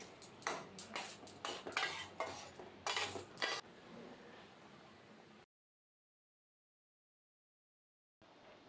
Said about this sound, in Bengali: এবার খুন্তির সাহায্যে ভালোভাবে মিশিয়ে নেব।